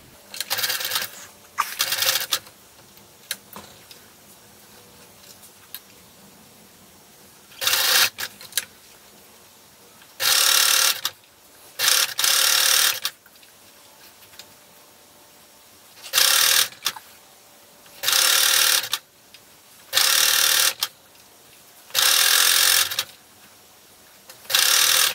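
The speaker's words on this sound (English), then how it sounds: "I just do a zigzag stitch all the way around to get the elastic attached" Sewing machine running a zigzag stitch to attach elastic around the leg openings of swim trunks, in a series of short loud bursts of stitching separated by pauses.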